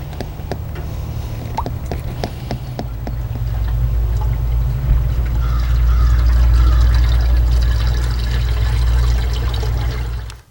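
Antifreeze pours into the cooling system of a Ford Crown Victoria, a steady close liquid gurgle and trickle that swells midway and stops abruptly at the end.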